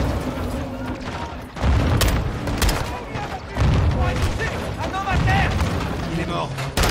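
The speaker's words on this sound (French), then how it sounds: "Ils lancent des grenades." Grenade blasts and gunfire in the video game Modern Warfare 2, with several dull booms and bursts of shots over a steady din of combat while people talk throughout.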